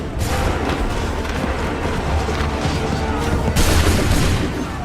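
Musket volley fire in the video game Assassin's Creed III, a dense loud crackling burst of many shots that rolls on continuously, with a fresh sharp volley near the end.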